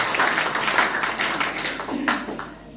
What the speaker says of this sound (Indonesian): Yang setuju percaya, berikanlah tepuk tanganmu bagi Tuhan Yesus